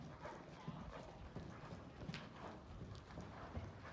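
A mare's hooves clip-clop in a steady trotting rhythm on a trail, fairly faint and a little distant, with no talking.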